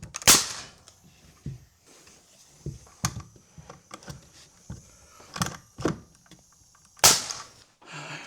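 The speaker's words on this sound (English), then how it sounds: "Where did I put my nail gun?" A nail gun drives fasteners while scrap pieces are patched onto new Gladiator shop work cabinets, giving several sharp, loud, isolated pops at irregular intervals over quiet handling noise.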